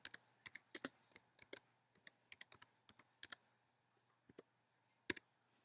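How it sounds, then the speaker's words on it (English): Fingers type on a computer keyboard in quick, irregular bursts of crisp key clicks, close and clear against a quiet room, with a short pause before a final few strokes. "we'll type something in there."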